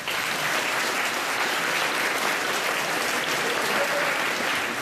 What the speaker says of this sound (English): a round of applause for our wonderful students